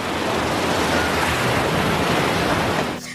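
Ocean surf at a beach rushes in a steady, broadband wash of breaking waves, loud and close, with no voices.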